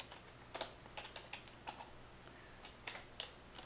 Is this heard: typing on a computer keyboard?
yes